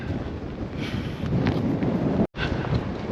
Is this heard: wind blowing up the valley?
yes